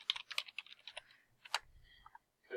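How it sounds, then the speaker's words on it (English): Quick bursts of close computer keyboard typing as an email address is entered, with irregular clicky keystrokes, a short pause, then a few more presses. "So I'm going to type in mine"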